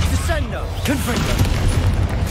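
Confringo blast curse exploding in Hogwarts Legacy, a dense booming burst with rumbling low end over continuous game sounds, with whooshing magical swirls and voices in the mix.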